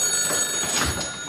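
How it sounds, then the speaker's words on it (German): A telephone bell rings in a German radio play, a steady ringing tone sounding alone and fairly loud throughout the short moment. "als das Telefon klingelt."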